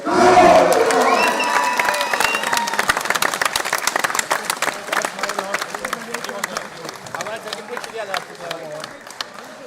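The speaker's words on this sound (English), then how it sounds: "So round of applause for everyone." A crowd at a men's county darts championship final applauds and cheers, loud clapping that thins into scattered claps over several seconds, with voices talking amid it.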